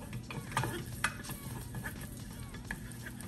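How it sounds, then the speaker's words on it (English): Tomato paste cooking off in a pan for meatloaf sauce, worked with a spatula: a low, steady sizzle under repeated scraping strokes and a couple of light knocks, close up, no voices. "We're just gonna cook off this tomato paste a little bit here"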